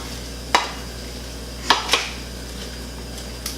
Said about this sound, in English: Let's just mix everything around in here.